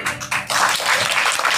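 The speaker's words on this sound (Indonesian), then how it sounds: "ini tepuk tangannya delay mulu dari tadi ya" Audience clapping at a religious talk in Indonesia, a short gap and then dense, sustained applause filling the room, moderately loud and near.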